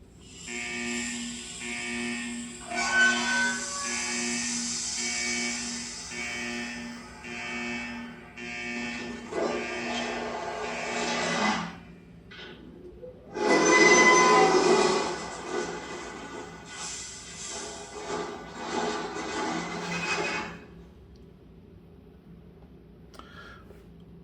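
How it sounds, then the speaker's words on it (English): A metal-on-metal screeching door-opening effect plays in bursts, with tonal grinding squeals and harsh scrapes starting and stopping, a loud peak midway, then trailing off into quiet. "I will play the sound and show the door opening"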